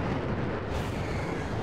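German BA-349 interceptor, a manned surface-to-air rocket, blasting off vertically in a game: a loud continuous roaring rush of rocket exhaust, steady and close, with no voices.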